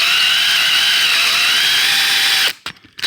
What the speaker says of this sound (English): and then he's gonna counterbore the top of that.